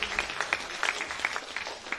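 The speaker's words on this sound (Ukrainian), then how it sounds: "під ваші оплески я запрошую Тараса Григоровича" A small audience at a creative evening claps in a brief, fairly faint burst of scattered, uneven hand claps.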